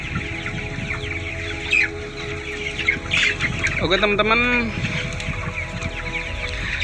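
Broiler chickens cluck nearby in a poultry house over a constant mechanical hum, with one bird calling out louder partway through; a person speaks briefly.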